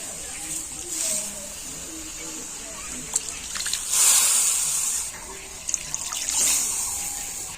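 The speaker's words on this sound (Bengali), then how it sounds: "এবারে আমি মশলা বাকিটা ধুয়ে জল দিয়ে দিচ্ছি" Water is poured into a pot of potato curry, a running splash rising and falling with brief clinks of a utensil, close by and fairly quiet.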